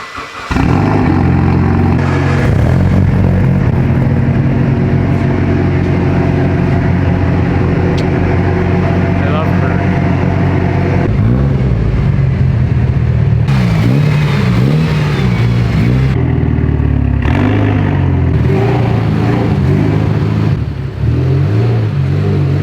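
Several cars start up and drive out of a garage bay, steady engine rumble with revving swells, loud and close throughout, no talking; one is a 2019 Subaru STI about to go on a lift.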